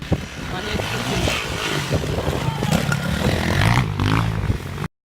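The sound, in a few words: enduro motorcycles racing on competition track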